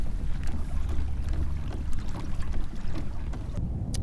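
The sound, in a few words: pedal-driven kayak moving through water on flats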